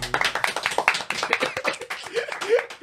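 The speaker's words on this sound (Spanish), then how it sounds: "un aplauso por eso" A crowd claps steadily in a quick, dense rhythm, applause rising and falling for a few seconds, close and lively.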